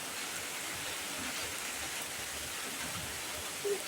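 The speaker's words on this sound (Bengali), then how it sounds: "ইকরা কত খুশি বৃষ্টির পানি দিয়ে" Rain falls as a steady, faint hiss of drops on surfaces, with one brief small sound near the end.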